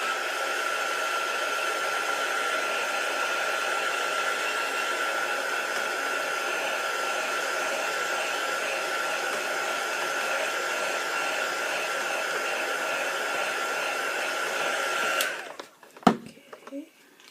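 A hair dryer blows steadily at close range over mixed-media bird artwork, a constant loud whooshing hum that runs unbroken for about fifteen seconds before switching off abruptly, followed by a couple of brief clicks and handling knocks.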